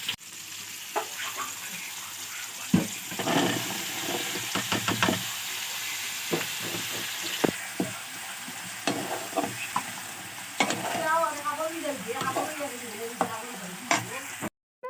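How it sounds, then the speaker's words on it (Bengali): Vegetables and fish fry in oil in a home kitchen pan, a steady close sizzle broken by spatula knocks and stirring scrapes, with brief clatter and a trickle of tap water near the end. "ভাজি করছি আর এইখানে মাছ ভাজা হচ্ছে"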